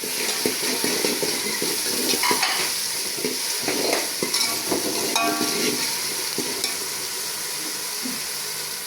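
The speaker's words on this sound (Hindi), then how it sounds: "अब उसके बाद में डालूँगी ये कुटी हुई हरी मिर्च और टमाटर" Crushed green chilies and tomatoes hit browning onions in a pan for a masoor dal dish, sizzling loudly while a spoon stirs and clatters in irregular bursts, with a watery splashing quality and no talk.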